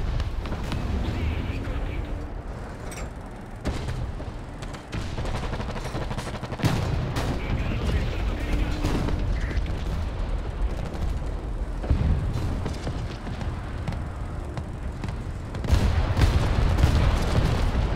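Artillery and cannon fire in the tank game War Thunder, heavy booms and gun bursts recurring through a busy, loud battle soundscape, with a player's voice talking over it.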